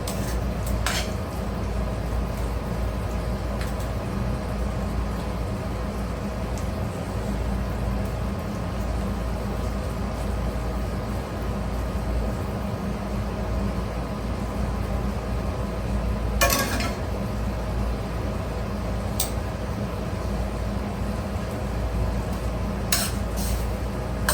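Shrimp marinara with garlic, sauce and basil scraped into a pot and stirred, giving steady low clatter and a soft wet churn, with a few sharp metal clinks of utensil on cookware.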